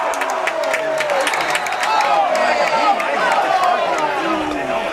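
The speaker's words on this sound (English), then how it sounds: "you can kind of hear some of the crowd getting rowdy for the Flyers there" A crowd at a football game in a stadium sends up a loud, sustained roar with cheering and whoops, and a commentator talks over it throughout.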